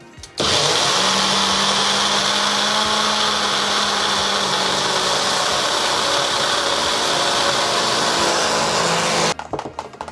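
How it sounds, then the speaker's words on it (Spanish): A blender whirs loudly and steadily for several seconds while blending a fenugreek seed hair mask, a constant high-pitched motor roar, then cuts off abruptly. "Así que ahora vamos a proceder a la licuadora."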